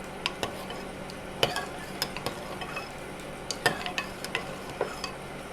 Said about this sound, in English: And I'm just going to stir it in while it's still hot.